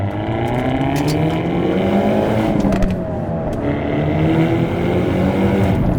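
A Hyundai Elantra N engine pulls hard in second gear, a loud continuous drone with rising harmonic sweeps as revs climb, steady and close throughout, with no talk.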